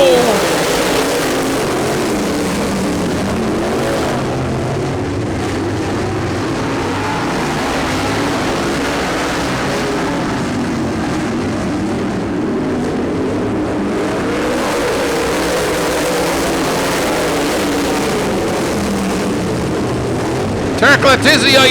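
Late model race cars roar together at the start of a race, a steady dense engine drone filling the track under continuous commentary.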